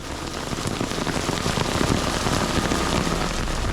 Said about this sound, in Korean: 가려고 하는 날 비가 오네요.